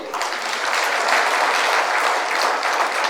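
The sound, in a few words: applause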